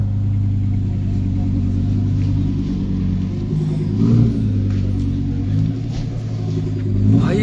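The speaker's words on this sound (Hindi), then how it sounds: "असली साउंड तो अब आएगी देखना, लैम्बोर्गिनी की बहुत ही ज्यादा बढ़िया आवाज लगती है।" A Lamborghini supercar engine rumbles and revs steadily at a busy Khan Market street in India, a deep continuous drone with louder throttle swells around the fourth and seventh seconds, close and loud with faint crowd noise beneath.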